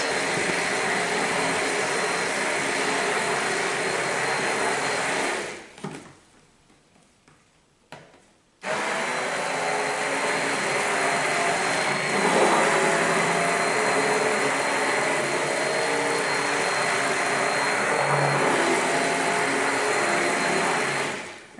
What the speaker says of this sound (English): I've got my immersion blender in, and then I'm going to pour in my lye solution. As soon as I pour, I'm going to start blending.